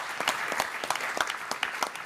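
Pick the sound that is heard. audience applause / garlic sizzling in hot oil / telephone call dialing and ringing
audience applause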